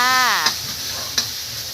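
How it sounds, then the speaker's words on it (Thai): Oil sizzles steadily in a hot wok while a utensil scrapes and clanks against it twice as chopped chili and garlic are stir-fried. "ผัดพริกกระเทียมให้หอมจ้า"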